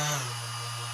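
An electric sander, turned down to a low setting, works over small wooden star cutouts held by hand, giving a close, steady whirring drone with a fine abrasive hiss that holds level throughout.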